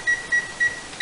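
Kitchen timer on a homebrew setup, boiling wort for an oatmeal stout, giving four short, evenly spaced electronic beeps, clear and close, with a faint steady hum behind them.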